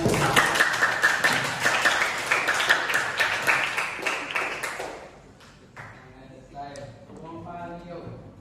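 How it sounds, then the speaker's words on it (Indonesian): Students in a classroom clap loudly and briskly for about five seconds, the sharp claps packed close together, before the applause fades and a voice begins speaking in the room. "tepuk tangan"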